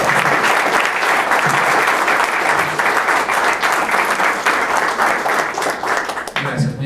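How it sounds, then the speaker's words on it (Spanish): A panel audience gives the speakers warm, sustained applause, many hands clapping loudly and densely for several seconds, easing slightly toward the end as a voice begins to speak. "pediría un caluroso aplauso para nuestros conferencistas"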